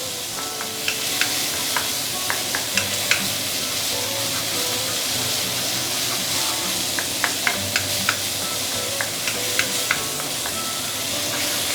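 Garlic and fermented chili stir-fry in a hot wok with a steady, loud sizzle, punctuated by repeated sharp scrapes and clacks of the spatula against the metal, with no voices.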